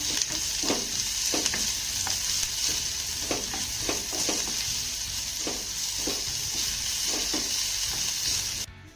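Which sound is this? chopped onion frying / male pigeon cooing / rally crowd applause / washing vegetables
chopped onion frying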